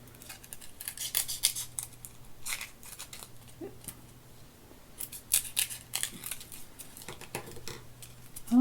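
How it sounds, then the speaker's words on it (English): Scissors snip through crepe paper to shape a leaf, producing crisp close-up cuts in irregular bursts with small rustles and handling noises between them and no voices. "I'm going to cut this in a leaf shape."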